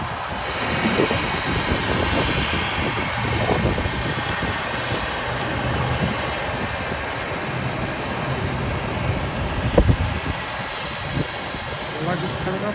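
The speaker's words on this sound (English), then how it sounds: "British Airways A319, short hop from Belfast." A British Airways Airbus A319 jet arriving at London Heathrow on a short hop from Belfast gives a continuous broad engine roar at moderate loudness, with people talking over it.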